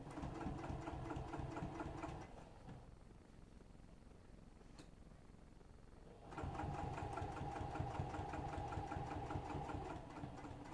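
A sewing machine stitches down a fold on a business bag in two close, rapid, steady runs with a brief quiet pause between them.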